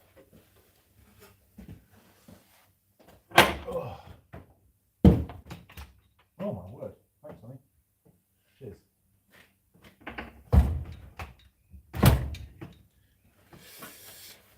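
A home workshop door opens and closes for a visitor, with several sharp wooden thunks and knocks spread out among quiet gaps, and brief talking in between.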